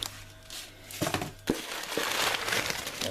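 Newspaper packing crumples and crinkles as an eBay parcel holding a vise is unwrapped by hand, with loud, close rustling bursts and a few sharper crackles.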